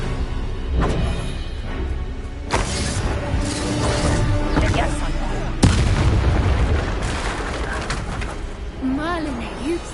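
In Hogwarts Legacy, a Confringo fire spell goes off as sharp, booming blasts, one near the start and a heavier one midway, over a steady game soundscape with cooing birds and continuous ambience.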